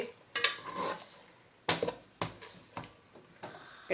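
Jaggery and oil heat in a pan, with a spoon clinking and scraping against the pan in several sharp, separate knocks over a faint low sizzle.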